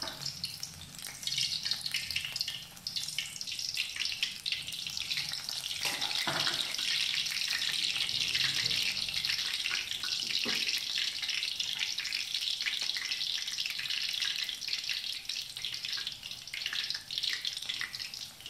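Battered enoki mushrooms fry in oil over medium heat, giving a steady, dense sizzle and crackle that runs without a break for the whole stretch, with no voices over it.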